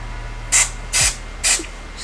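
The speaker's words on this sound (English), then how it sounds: "spray that so it'll hold in place" Three short bursts of CHI Helmet Head hairspray misted onto a full lace kinky straight wig, each hiss lasting about a quarter second and evenly spaced, close and clear over a quiet background with no talking.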